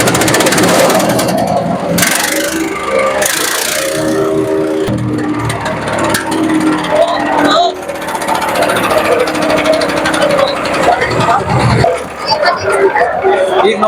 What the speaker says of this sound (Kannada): ಇಂಜಿನ್ ಸ್ಟಾರ್ಟ್ ಮಾಡಿ ತೋರಿಸ್ತೀವಿ ನೋಡಿ ರೀಕಾಯಿಲ್ ಅಲ್ಲಿ ಯಾವ ರೀತಿ ಸ್ಟಾರ್ಟ್ ಆಗುತ್ತೆ ಅಂತ.